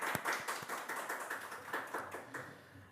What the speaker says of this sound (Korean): 우리 환영의 박수 한번 할까요?